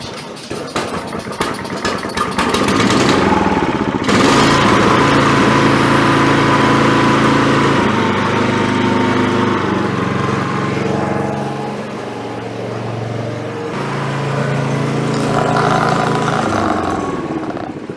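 An Ariens snow blower engine runs close by at low idle for a long stretch, settling into a steady putter after a brief rise, with no voices.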